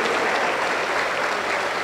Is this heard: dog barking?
no